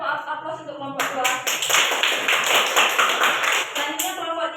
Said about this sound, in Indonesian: berikan tepuk aplaus untuk kelompok 2